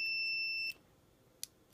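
A multimeter on continuity mode emits a steady high-pitched electronic beep at close range while testing a push button, cutting off abruptly after under a second, followed by a faint click.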